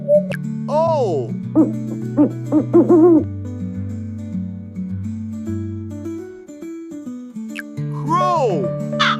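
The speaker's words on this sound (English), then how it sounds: "Owl." An owl hoots in repeated, rhythmic calls, loud and close, set over a steady musical backing with swooping tones.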